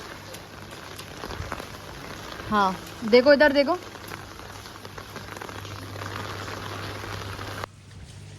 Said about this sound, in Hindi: कितनी अच्छी लग रही हैं रेन ड्रॉप्स